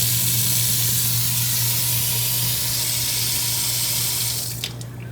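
Water sprays steadily from the side sprayer of an RV kitchen sink in a new 2024 Highland Ridge Open Range 3X 390TBS travel trailer, making a loud continuous hiss that cuts off near the end.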